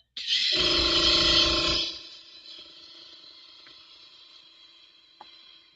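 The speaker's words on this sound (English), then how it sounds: "Just spraying out the water." Airbrush spraying water out during cleaning, a sharp hissing burst lasting about a second and a half that cuts off, followed by a faint lingering hiss and a small click near the end.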